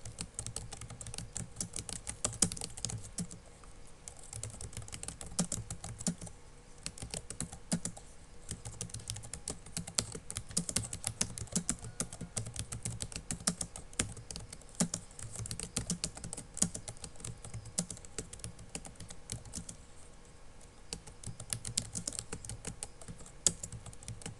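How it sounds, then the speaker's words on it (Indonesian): Fingers type on a computer keyboard while entering text in Microsoft Word, producing a steady, rapid clatter of close keystrokes with short pauses and no talking. "Kemudian kita mulai mengetik."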